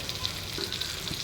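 Stuffed okra frying on an iron griddle, stirred slowly, gives a steady soft sizzle with faint scraping touches throughout, close and continuous with no talk.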